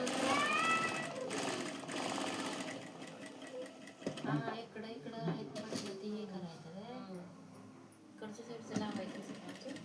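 A sewing machine stitches small pleats into a blouse sleeve, its rapid mechanical chatter running in bursts close by while someone talks over it.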